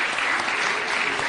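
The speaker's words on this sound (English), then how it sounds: "A really warm round of applause for His Excellency." A short burst of steady applause from a crowd at a closing ceremony at State House in Nairobi, loud and continuous.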